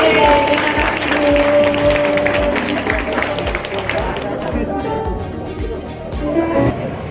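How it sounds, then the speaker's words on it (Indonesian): Clapping from a gathered crowd at a shop visit by a provincial legislator rises over lively chatter and a voice speaking, with music-like tones ringing underneath. "Boleh tepuk tangannya dong untuk kita semua."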